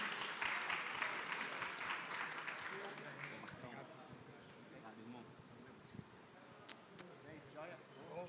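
At a Web3 marketing and events talk, a crowd gives a round of applause that is densest at the start and thins out, quiet and somewhat distant, with voices mixed in.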